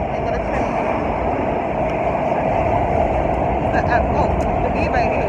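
A steady, continuous rumble of a train at a station fills the whole span at close range. Faint voices sit underneath.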